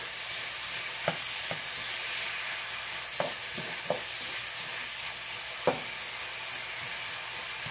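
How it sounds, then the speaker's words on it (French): Apple pieces caramelizing in a pan for a flan, with a steady sizzle throughout and a few sharp clinks of a utensil stirring against the pan. "Je vais terminer de caraméliser mes pommes."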